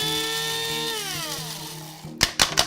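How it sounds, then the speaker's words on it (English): Electric spice grinder milling roasted cumin, its high motor whine winding down and stopping, followed by three short sharp bursts as it is pulsed again, close up. "This is the roasted cumin that we are going to grind"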